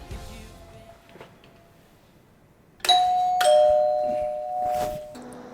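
A doorbell rings indoors in the evening with two clear electronic chimes, the first at about three seconds and the second a moment later, each followed by a sustained ring-out. Quiet room sound comes before the chimes.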